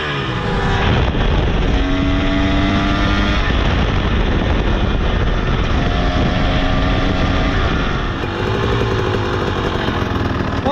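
A 2023 KTM 300XC two-stroke dirt bike with a high-compression RK Tek head riding down a road, its loud revving engine rising and falling through gear changes under heavy wind buffeting, recorded on board.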